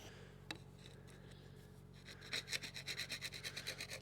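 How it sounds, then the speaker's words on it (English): Heavy rust scraped off the ring area of a seized cylinder in a long-idle Caterpillar road grader engine: a lone scrape, then a quick run of rhythmic, close scratching strokes. "I'm scratching off the heaviest bits of rust here, right at this ring where it was stuck."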